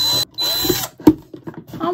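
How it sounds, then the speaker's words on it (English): Power drill boring a hole through a block of wood during a home craft project, short whirring bursts close by, broken by pauses. "And then I'm going to drill a hole."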